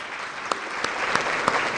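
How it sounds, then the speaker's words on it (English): Audience applause at a Salute to Success awards event, a continuous, moderately loud patter of clapping with a few sharper claps standing out. "Please join me in giving them a round of applause for this."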